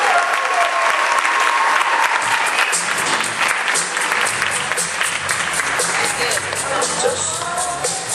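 A crowd at a live contest event gives steady, loud applause that holds for several seconds, with some cheering and voices mixed in as the clapping gradually thins.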